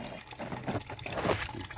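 Water drains from a flower pot packed with clay soil into a bucket, trickling and dribbling continuously at close range with a steady splashing patter.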